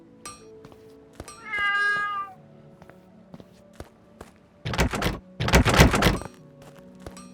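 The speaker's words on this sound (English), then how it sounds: "Did I hear a cat?" In the video game Gedonia 2, a cat lets out one clear, drawn-out meow among scattered footstep thuds and light knocks, followed by two louder bursts of shuffling noise nearby.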